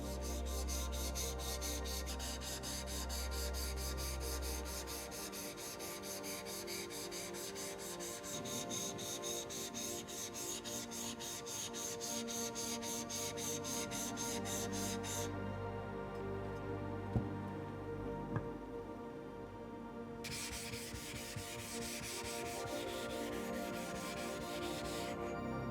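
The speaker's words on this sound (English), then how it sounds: "The fingers on the back of the chisel are putting only moderate pressure down into the stone, just to stabilize the bevel." A steel chisel bevel is rubbed back and forth on a sharpening stone in a steady, even rhythm of gritty strokes, close and quiet, with a short pause partway through.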